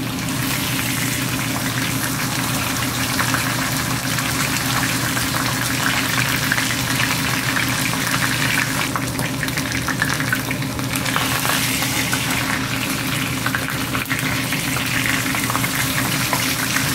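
Moose and venison sear in hot grease in a pan, a loud, steady crackling sizzle with a bubbling, boiling texture that runs unbroken for the full length, close and with no voices.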